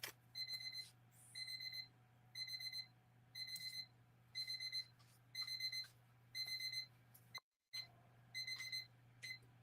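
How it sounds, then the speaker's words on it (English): Kitchen oven timer alarm beeping in repeated short bursts, a regular pulsing electronic chirp about once per second over a low steady hum, fairly loud and close with no talking. "There's a timer, guys. Hold on 1 second. Let me get that out of the oven."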